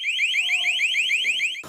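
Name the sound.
Narcan box alarm sounding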